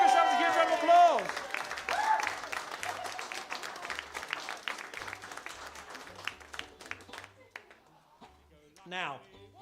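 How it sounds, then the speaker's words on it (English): Audience applause at a live comedy cabaret show at the Bedfringe festival: sustained clapping from a crowd that thins out gradually, with a performer singing and talking over the start and speaking again near the end. "Give yourselves a huge round of applause."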